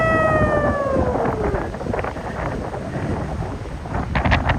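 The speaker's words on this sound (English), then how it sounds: "It's very windy, very windy." Strong wind on a boat at a lock crossing Lake Okeechobee buffets the microphone with a constant roaring rumble, along with a brief falling whistle-like tone at the start and some background clatter.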